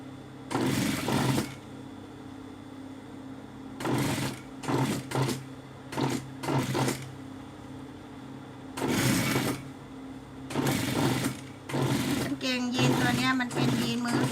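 A sewing machine stitches trouser seams while the legs are altered from flared to straight. It runs in repeated bursts of rapid, whirring needle action with short pauses between them, heard nearby.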